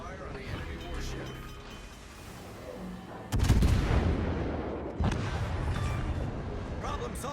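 Naval artillery fire in the World of Warships Legends game booms out in heavy salvos over a continuous rumbling battle ambience, with two strong blasts standing out, while radio-style voice lines speak.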